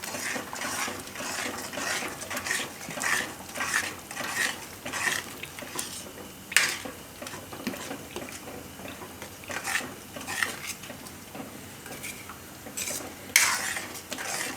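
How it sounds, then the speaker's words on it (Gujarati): A spoon stirs yogurt into a spinach pakora curry in a metal pan, with repeated scraping strokes and sharp clinks of utensil against the pan, close and fairly loud. "તો દહીં આપણે આમાં મિક્સ કરી લેવું."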